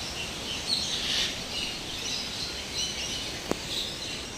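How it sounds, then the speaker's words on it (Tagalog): Birds chirp in Hong Kong Park, scattered high tweets and short calls over a soft background hiss, moderately faint with one sharp click near the end. "Mga ibon lang po."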